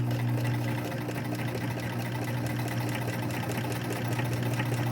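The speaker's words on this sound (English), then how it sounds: "So start anywhere, it doesn't matter. And stitch close to the edge" An electric sewing machine stitches along the edge of a fabric face mask, a steady continuous motor whir with a low hum that runs unbroken for the whole stretch, close and alone.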